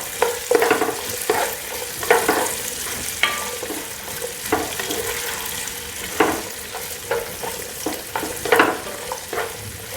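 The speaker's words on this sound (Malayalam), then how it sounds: "ഇത് രണ്ടും ചേർത്തതിന് ശേഷം നമുക്കിത് നന്നായിട്ടൊന്ന് വഴറ്റി കൊടുക്കാം" Sliced onion and green chillies sautéing in a pan for restaurant-style chilli chicken, with steady sizzling and frying crackle under frequent scraping and stirring strokes of a utensil, close and fairly loud.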